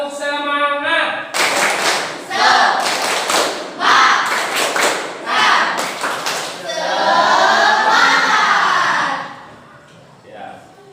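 A school social-studies class performs a rhythmic clapping chant, tepuk semangat: bursts of group handclaps in a patterned beat mixed with children's chanting voices, close and loud, ending with a sustained shout.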